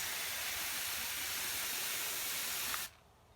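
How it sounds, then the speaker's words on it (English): Spray bottle misting Tigerella tomato plants, a soft continuous hiss of fine spray lasting close to three seconds before stopping, close and fairly quiet. "we're just going to give it a light mist"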